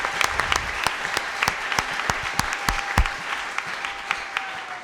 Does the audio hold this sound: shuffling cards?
no